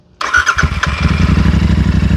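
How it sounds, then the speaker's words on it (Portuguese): A Royal Enfield Interceptor 650 parallel-twin with 270-degree crank firing cranks and starts after a brief silence, a brassy rising burst settling into a loud, steady, lumpy idle pulse close by. "paralelo aqui em linha com 270 graus de defasagem entre os pistões e ronca muito bonito"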